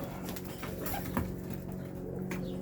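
Domestic pigeons coo in a Polish pigeon coop, with low murmuring calls under a constant hum and a faint rustle partway through.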